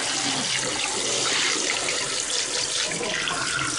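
Cold water streams hard from a tap over brined, injected turkey legs being rinsed in a sink, a loud, constant hissing splash heard up close with no talking.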